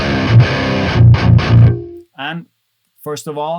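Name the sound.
metal guitar through Hellbeast amp sim with Barefoot 2 IR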